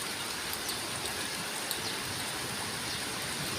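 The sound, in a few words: heavy rain falling outside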